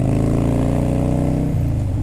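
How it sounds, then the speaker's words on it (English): A Harley-Davidson Twin Cam 88 Softail idling through Freedom exhaust pipes, a deep, loud, lumpy V-twin rumble close by, with a slight dip in pitch near the end. "It's a good pipe, gives a lot of throat to the bike, especially on these twin cam 88s"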